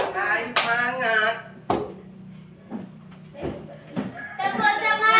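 A group of children perform a rhythmic spirit clap in a classroom, with a few sharp claps punctuating loud chanted voices in a quick patterned beat.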